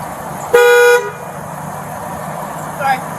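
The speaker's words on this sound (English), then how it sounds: "That was the car alarm for their vehicle." A parked vehicle's car alarm gives one loud, close, steady electronic blast lasting about half a second, followed by a fainter short chirp, with talk in the background.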